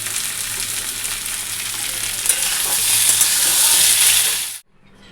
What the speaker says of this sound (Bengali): জিরা তেজপাতা আর পেঁয়াজ ফোড়ন দিয়ে আলু বসিয়ে দিয়েছি ডিমের ঝোলের জন্য